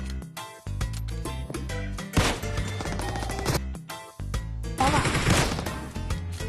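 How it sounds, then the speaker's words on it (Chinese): Rapid 98K rifle shots crack through a battle-royale video game firefight, loud and close, sharp bursts landing amid dense game music and effects without a pause. "使用 98K 快速开火，2枪击倒一个"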